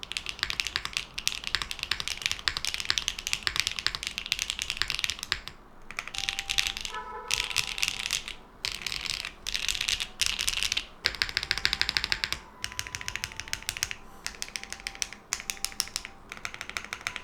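Typing on an F260 custom mechanical keyboard, a dense run of crisp keystrokes close up, with a few brief pauses and a short burst of quicker taps midway.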